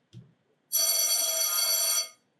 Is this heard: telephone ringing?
yes